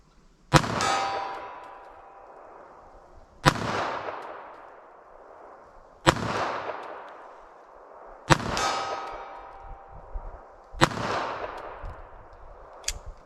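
Five loud, sharp pistol shots of Aguila Interceptor .22 LR rounds, spaced about two to three seconds apart at an outdoor range. Each crack rings with a short metallic decay, and no one speaks.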